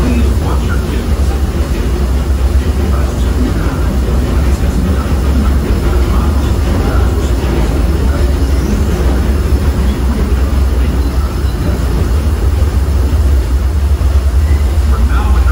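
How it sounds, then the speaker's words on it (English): The Disneyland Railroad train rolls along with a loud, continuous low rumble and rattle of rail cars, steady throughout, while a narrator's voice talks over the running train. "welcome aboard the Disneyland Railroad"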